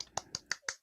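Four sharp, evenly spaced claps come through a Zoom call from an online spoken-word audience, quick and fairly faint, with silence between them.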